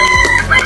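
Kukuk Balengge chicken, a breed endemic to Solok Regency, gives a loud, close, very short crow or cluck burst with no talking.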